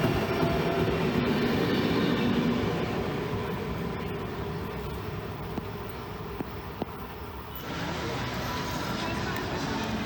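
At a railway platform near Lake Como, a train rumbles steadily with wheel and carriage noise and a few faint clicks, continuous and fairly close throughout.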